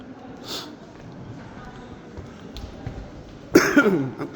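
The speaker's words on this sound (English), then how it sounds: "I'm so sorry if I'm coughing." A couple of asthmatic coughs, one early and a harsher burst near the end, inside the Church of the Holy Sepulchre in Jerusalem, over quiet background noise with some faint voice sounds.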